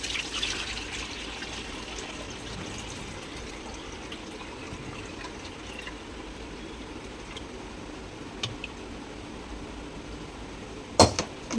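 Water poured from one full vessel into another in a home kitchen, a soft steady trickle running for several seconds, ending with a brief louder splash near the close.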